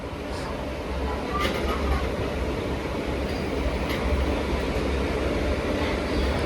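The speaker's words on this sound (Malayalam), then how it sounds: "അതിപ്പോൾ എടുത്തിട്ട് പോകലായി ആ ഫ്രൈറ്റ്" Steady, heavy rumble of a freight train pulling away on a single line, broad and continuous, with no clear speech over it.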